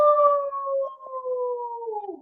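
A child imitates a wolf howl during a yoga pose, one sustained voiced howl that holds steady and then slides downward at the end, close and fairly clear.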